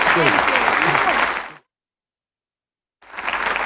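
Studio audience on the Bullseye Christmas Special 1984 game show applauding, loud dense clapping with voices mixed in, cutting to silence midway and then resuming.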